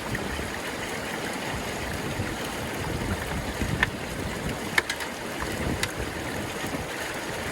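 A pressure washer sprays water at lowered pressure outdoors, giving a steady broadband hiss with a few brief sharp spikes, close and continuous, with no talk over it.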